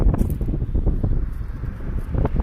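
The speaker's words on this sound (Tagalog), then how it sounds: "Oh, ang lakas ng hangin, guys." Gusty wind buffets the microphone in uneven low rumbling bursts, blustery and close, with no clear speech.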